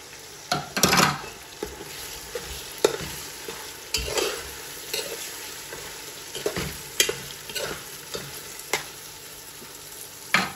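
Chickpeas and dry fruits for a lamb pulao frying in a pot while a utensil stirs them, with scattered scraping clacks over a soft continuous sizzle, close and without voices.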